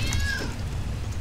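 A cat in LEGO City Undercover gives a single short meow over a steady background hum of game ambience.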